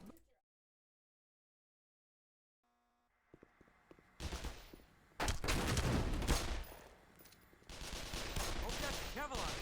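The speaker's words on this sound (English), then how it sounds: "Why is he shooting me?" Gunfire in Half-Life: Black Mesa, Opposing Force section, bursts in after a silent start and builds into loud, repeated automatic and single shots with dense echoing impacts through the second half.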